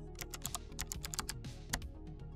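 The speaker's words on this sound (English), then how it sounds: "Let me type my first name here." Keys on a computer keyboard clatter in a quick, irregular run of close, crisp clicks as a first name is typed into a code editor on a Windows 11 PC.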